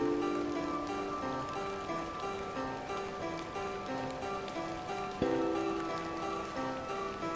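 Steady game rain from The Excavation of Hob's Barrow, a continuous hiss of drops patters evenly throughout, with soft ticking and a low musical tone beneath and a brief bump near the end.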